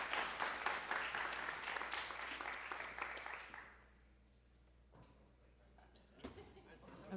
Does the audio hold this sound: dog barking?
no